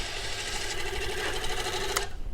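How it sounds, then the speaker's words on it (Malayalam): An old arc welding machine running on direct current lays a weld, giving a dense, steady crackling buzz that holds for about two seconds, then cuts off abruptly. "വെൽഡ് ചെയ്ത് പോകാം."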